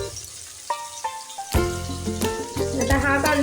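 Chopped onion dropped into hot oil with bloomed cumin for a besan-potato curry, bursting into a loud sizzle after a few light clinks, then frying steadily with crackles and utensil clatter close by.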